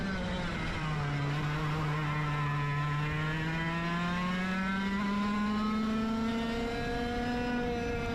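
A race car lapping at full pace, its engine droning loud and close with a steady tone that climbs gradually as it accelerates, nearly unbroken from start to finish.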